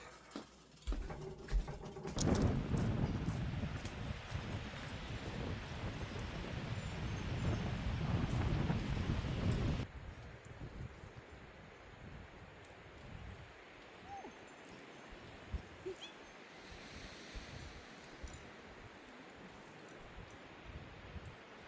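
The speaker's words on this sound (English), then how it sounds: "The wind is wicked" Strong wind blows outdoors at an off-grid homestead, loud gusty rumble buffeting the microphone for several seconds before easing into a softer steady rush with light rustling.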